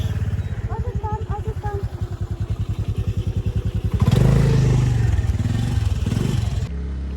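A scooter engine labors with a rapid, throbbing putter, then revs harder and louder around the midpoint, straining steadily before easing slightly at the end.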